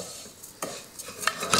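Basmati rice being stirred into hot oil in a pan, with a few distinct scraping strokes over a soft background sizzle, close and clear with no talking.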